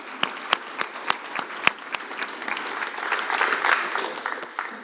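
Audience applause at a startup demo day, with sharp individual claps at the start swelling into a fuller round of clapping that fades out, moderately loud and close.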